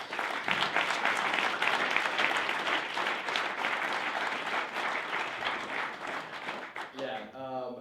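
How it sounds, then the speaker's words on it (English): A room full of people at a tech meetup gives a sustained round of applause for two speakers, dense clapping close up for several seconds before it fades near the end, where a voice begins to speak. "Please, everybody give them one more round of applause."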